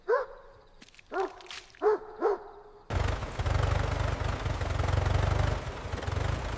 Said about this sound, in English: Speaker dog, go! Woof, woof, woof. That dog sounds huge.